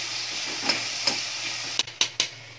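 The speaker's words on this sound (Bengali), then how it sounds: "এবার দিয়ে দিচ্ছি এর মধ্যে টমেটো কুচি। টমেটোটা প্রথমে একটু ভালো করে নাড়াচাড়া করে নিচ্ছি।" Chopped tomato is stirred in a hot pan of oil with cardamom and cinnamon for a paneer veg biryani, giving a steady close sizzle broken by several sharp scraping stirs near the end.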